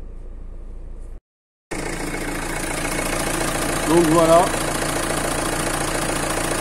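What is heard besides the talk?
Renault Scenic 3 engine idling after injector seal replacement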